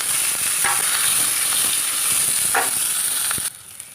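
Onions sizzle steadily in hot oil with fennel seeds, a loud, continuous frying hiss with occasional crackles and stirring clinks, ending abruptly near the close.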